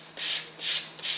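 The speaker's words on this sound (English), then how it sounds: "taper sanding the thickness all the way out there to the wing tip, to the tips of your flying surfaces" Sandpaper rubbing along the wooden flying surfaces of a rocket glider to taper them toward the tips, three steady back-and-forth strokes, close and fairly loud with brief pauses between.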